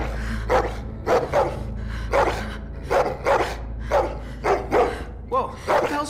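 A dog in The Walking Dead video game barks repeatedly and close, about ten sharp, evenly spaced barks over a low rumbling background, with no talk between them.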